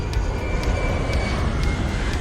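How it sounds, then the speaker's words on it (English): A jet engine from a C-17 Globemaster transport aircraft in the X-Plane 11 flight simulator roars steadily, a loud, constant low rumble with a faint high whine and no talk. "I don't know why this jet sound keeps following us around."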